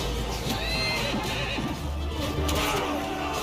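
A horse whinnies in the medieval battle game Mount & Blade II: Bannerlord, heard amid continuous battle noise with a low rumble and scattered clatter, in two loud bursts near the start and near the end.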